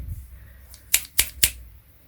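Three quick, crisp snips of scissors cutting sellotape at an even pace, close up, after a faint rustle, with no talking.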